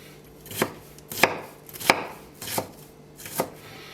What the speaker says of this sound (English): Slice a few slices here.